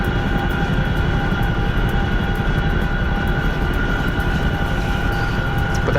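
A Chinook helicopter in the flight sim DCS drones steadily at close range, a loud continuous engine and rotor roar with a constant whine that never lets up.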